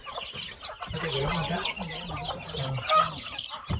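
Chickens cluck and murmur close by on a farm in a steady, low chatter, with some background noise and a brief sharper call.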